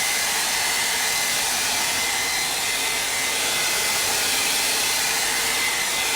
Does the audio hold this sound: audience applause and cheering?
no